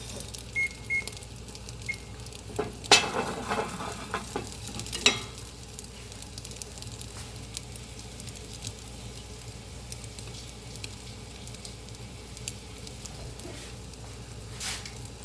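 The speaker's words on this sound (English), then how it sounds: "So yeah, that's cooking for another 2 minutes on the other side." A Spanish tortilla of egg sizzling steadily in a frying pan on the heat after being flipped, a continuous close hiss with a couple of brief utensil clatters early on.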